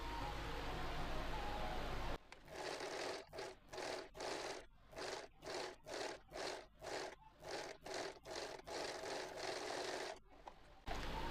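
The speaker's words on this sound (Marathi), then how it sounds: "पाव इंच आपण त्यावर शिलाई देऊन घेणार आहोत" A sewing machine stitches a piping strip onto a garment neckline with a quarter-inch seam. It runs in steady, evenly spaced short bursts with brief pauses between them, close and fairly quiet, with no talking.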